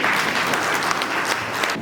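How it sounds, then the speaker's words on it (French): Audience applause in a conference hall during opening speeches, a dense, steady clapping that fills the room throughout and thins slightly at the very end. "Cher doyen Samba Bouye, je vous demande d'applaudir"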